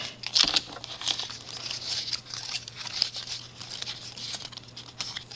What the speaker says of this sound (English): I'm just going to keep folding these